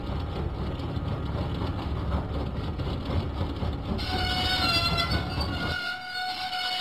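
Diesel engine running along the track in a Thomas and Friends video game, a steady rumbling rattle of wheels and engine that shifts partway through as a brighter tone enters, then the rumble drops away.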